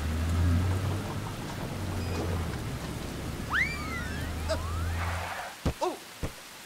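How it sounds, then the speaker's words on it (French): Rain falls steadily in a French children's cartoon, a soft continuous hiss with a low rumble under it, while cartoon sound effects and short vocal sounds come through near the end. "Oh, mais il pleut!"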